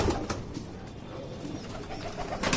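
A Madrasi pigeon cooing close by, soft repeated low coos in a gentle rhythm, fairly quiet and alone over faint background hiss.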